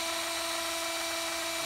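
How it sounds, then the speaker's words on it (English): A power drill on a low speed setting spins an Arctic Cat snowmobile speedometer cable, giving a steady, even mechanical whine with a thin high tone, continuous and fairly quiet throughout. "My drill's on number 2."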